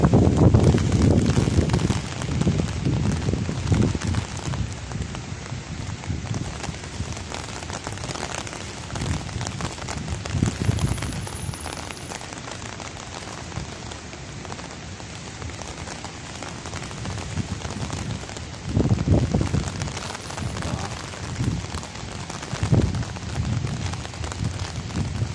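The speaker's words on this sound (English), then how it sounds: "As you can see, it's raining." Rain falls steadily in Dubai, a continuous patter on surfaces with occasional louder gusts and bursts of heavier drops, heard close with no talking.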